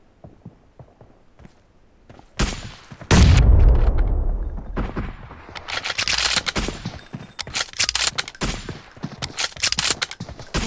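Gunfire from the mobile video game PUBG Mobile sounds first as faint scattered shots, then as a loud booming blast and dense bursts of rapid automatic fire, with no talk.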